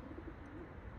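Tumbler pigeons coo softly in a brief, faint, low murmuring call against steady outdoor background noise.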